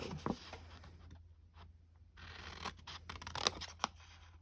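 Scissors snip small triangular slivers from card stock for a handmade Valentine gift box, giving quiet, close cuts in short bursts with soft rustling paper between them.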